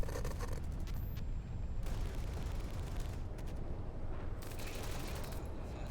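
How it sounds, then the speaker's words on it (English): Explosions in the horror game In Sound Mind, heard as a continuous rumbling barrage with bursts of crackling gunfire-like noise. They sit at a moderate level, rising and falling over several seconds. "got explosions"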